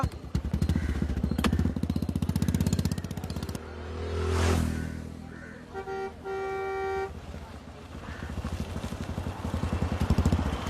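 A small auto rickshaw engine rattles and putters close by, with a horn toot midway and the engine chugging on again afterward.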